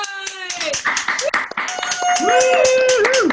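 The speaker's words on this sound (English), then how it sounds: "They're clapping hands here for you guys too." Scattered hand clapping from a small audience after a farm plan presentation, quick uneven claps mixed with voices and tonal sounds over the top.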